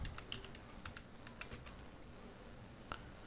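A computer keyboard is typed on in a quiet room, with soft, irregular key clicks and a few sharper taps, close by and faint, with no one talking.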